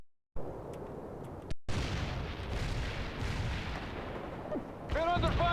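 Artillery blasts and gunfire crack and boom through a World in Conflict real-time strategy battle, with dense rumbling explosions, sharp isolated shots, and a short radio-style voice line near the end.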